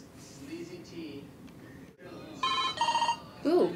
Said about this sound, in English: Ooh, my phone is ringing and it's the Pride Center.